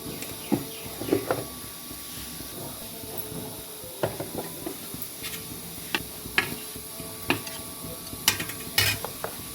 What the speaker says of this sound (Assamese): তেল দি এইখিনি ভাজি ল'ম।